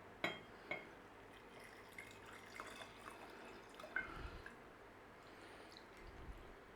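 Brandy and vodka pour into a jar holding orange zest, a few soft drips and liquid splashes at the start and then scattered quieter trickles, faint and close.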